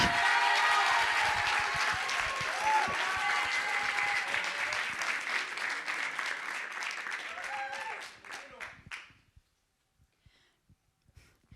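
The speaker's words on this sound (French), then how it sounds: "sous un tonnerre d'applaudissements" Sustained applause from an audience welcoming a speaker onto the stage at a university thesis-presentation contest, dense clapping that rolls on for about eight seconds, then thins to a few scattered claps and fades into silence.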